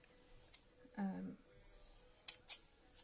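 Scissors make a few faint, crisp snips trimming fabric a quarter inch in for a fabric bowl cosy, heard close in a quiet room, with a short voice passage between the snips.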